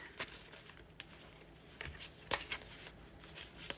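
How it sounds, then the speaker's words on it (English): Tarot cards are shuffled close by in a quiet room: soft papery riffles and light slaps in irregular bursts, faint and unaccompanied by talk. "I better shuffle good for this."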